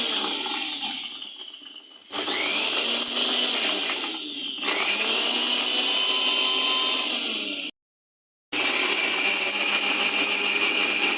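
Mixer grinder whirring loudly as it grinds ginger and garlic, a steady high motor roar running in long stretches with a brief stop before restarting.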